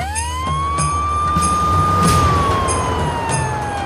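Ambulance siren wailing in a slow, continuous rising and falling tone during a military accident scene, loud and close with a low engine rumble beneath, no talk.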